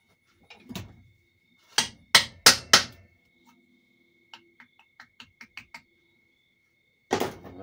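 Socket of 30 mm pressing a part into a 4L60E automatic transmission during a rebuild, a few sharp metallic knocks and clunks followed by a run of small clicks, then another knock, close and otherwise quiet.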